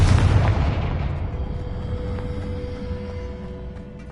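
A Confringo fire-blast spell in Hogwarts Legacy bursts in a heavy, rumbling explosion that hits loud at once and then rolls away into a long, fading low roar over about four seconds, with no voices.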